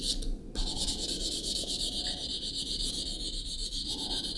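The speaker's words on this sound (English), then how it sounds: "we're just kind of like scuffing them up to get rid of all the imperfections and ridges on the top of the nail" A nail file scuffs the tops of fingernails during a manicure, making a close, continuous, bright rasping rub of steady strokes with no talk.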